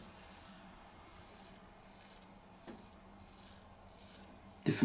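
A straight razor scrapes stubble during a traditional wet shave in a repeating series of close, rasping strokes, about six in a row with short pauses between them, ending on a brief louder knock.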